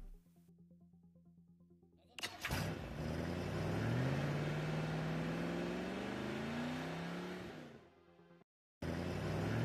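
A car in the horror game Ice Scream pulls into a parking spot: the engine surges up, its pitch climbs as it accelerates, then settles and cuts off abruptly, with no talking.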